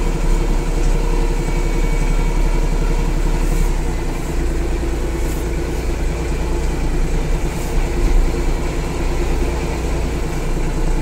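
A Japanese compact tractor fitted with a cab, rotary tiller and blade runs on the move, its engine giving a steady, loud, continuous rumble with no pauses.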